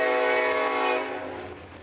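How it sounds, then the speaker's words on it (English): A loud train horn sounds in a sustained, harmonic blast that fades as the train passes in Newport, Tennessee, with a steady rumble underneath and no voices. "And the train comes."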